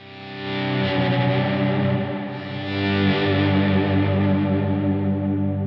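Distorted electric guitar with chorus and echo effects swells in smoothly through an Ernie Ball VPTuner volume pedal, sustaining loud, rich chords that dip slightly midway and then swell back up, with no talking.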